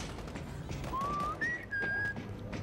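Zombies whistling in the video game World War Z: a thin rising whistle, then a higher steady tone held for about a second, faint over a low game-ambience hiss.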